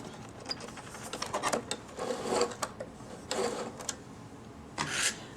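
A home sewing machine stitches a fabric face mask in short, uneven bursts of whirring and clicking, fairly close and moderately quiet, with pauses between runs.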